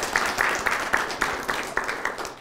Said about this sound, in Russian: Вот, отдельные аплодисменты.